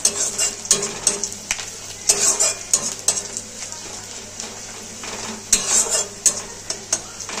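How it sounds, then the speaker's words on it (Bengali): Onions fry in a pan for aloo posto while a utensil stirs them, with repeated scraping strokes and clinks in an irregular rhythm over a steady sizzle. "পেঁয়াজটা ভেজে নেব। পেঁয়াজটা খুব লাল লাল করবো না,"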